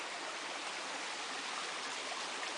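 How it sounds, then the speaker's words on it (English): Rollins Creek on the Superior Hiking Trail rushes past nearby, a steady, full hiss of flowing stream water that stays even throughout, with no voices. "Well, here we are at Rollins Creek."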